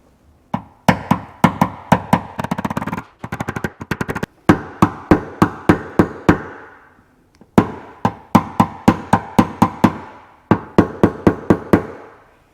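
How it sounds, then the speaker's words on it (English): A hammer taps down a dent along the body line of a new car panel, delivering rapid series of sharp, close metallic taps in quick bursts separated by brief pauses, with no voices. "Just need to tap it down a bit more."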